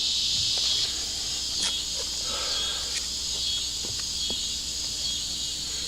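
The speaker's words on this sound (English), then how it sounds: "Of course, the crickets are going" Crickets chirp outdoors at a shooting range as rain falls and dusk comes on, a continuous high shrill that fills the background, with a few soft rustles and knocks nearby and no speech.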